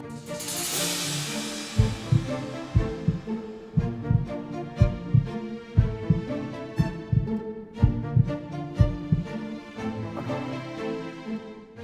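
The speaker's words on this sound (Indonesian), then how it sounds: "Ini juga jantung saya kok deg-degan gini ya." A pounding heartbeat effect throbs in steady doubled beats, deep and loud, repeating for about ten seconds after a brief hissing swell at the start, with no talk over it.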